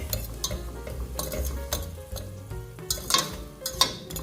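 Tomatoes and seasoning cooking in a sausage-and-rice pot sizzle steadily up close, with spoon stirs and occasional clinks of utensil against the pot.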